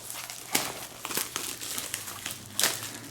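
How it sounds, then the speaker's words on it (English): Protective plastic film is peeled off an iPhone 3G protector, making close, crinkly crackles with sharper bursts of rustle, alone with no talk. "Peel off the plastic."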